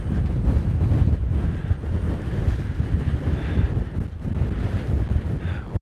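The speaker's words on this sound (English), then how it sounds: "I'll show you folks how windy it is." Strong wind buffets the microphone in a steady, heavy roar with low rumbling gusts, suggesting an exposed spot by the sea.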